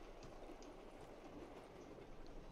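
Steady rumbling and clatter of a moving train in Call of Duty Black Ops 3's Shadows of Evil zombies map, a continuous faint rolling wash with no talk.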